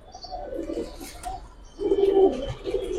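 A pair of Kaldom Chuithal pigeons, low soft cooing heard close by in two short phrases, with faint background noise.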